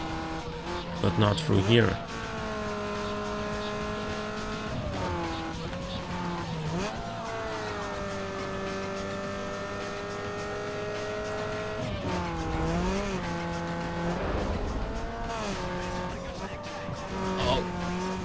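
A race car engine in Need for Speed Underground 2 holds a loud, steady high-revving drone with rising shifts, a nitrous-boosted surge and brief tire squeal, while someone talks over it.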